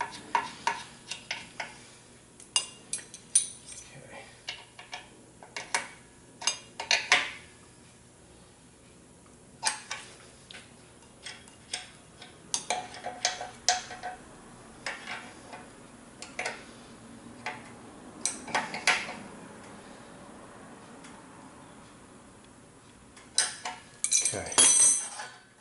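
A Jacobsen LF 3400 mower reel turns against its bedknife, making scattered light metallic ticks and clinks over a low steady hum, close and irregular across the whole stretch.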